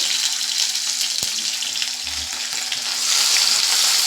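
Onion, dry red chili, bay leaf and black cumin frying in oil for spicy semolina, a loud continuous sizzle with a sharp knock and brief stirring scrapes.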